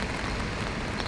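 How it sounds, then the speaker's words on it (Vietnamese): Rain falls outdoors as a dense, steady hiss of drops, fairly loud and even throughout a brief moment, with no voices. "Trời mưa."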